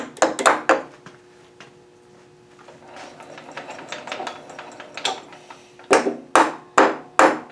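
A mallet knocks a vise jaw down onto a parallel bar on a surface plate during model steam engine machining, giving sharp close wooden-metallic knocks: a quick cluster at the start, then four spaced, loud blows near the end.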